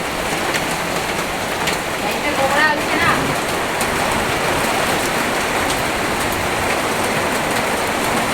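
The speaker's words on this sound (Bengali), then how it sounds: "কত বৃষ্টিটা পড়া শুরু হলো এখন, ভালোই পড়তেছে" Heavy rain from a sudden nor'wester storm hisses steadily and densely throughout, loud and continuous, with a brief faint voice-like sound partway through.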